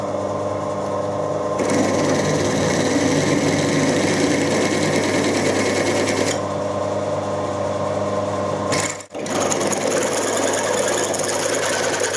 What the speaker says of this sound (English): I haven't got 11mm reamer, so I'll have to drill it